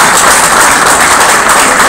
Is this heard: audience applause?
yes